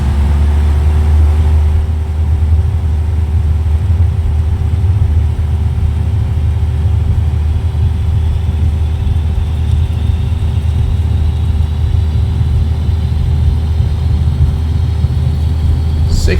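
A Cessna 172 engine in the X-Plane 11 flight simulator holds full throttle, a loud, steady low propeller drone with a constant tonal hum, unbroken from start to finish and without audible talk.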